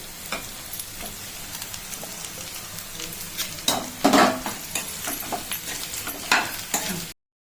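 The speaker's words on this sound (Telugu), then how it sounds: "ఇది మొత్తం పచ్చివాసన అయ్యేంత వరకు బాగా ఫ్రై చేసుకోవాలి." Samosa filling masala of mashed boiled potato fries and sizzles in a pan, with steady close crackling and occasional scrapes and stirs of a spatula against the metal.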